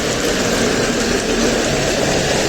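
A loud, steady bus engine rumble with a continuous broadband roar, idling nearby in the rain.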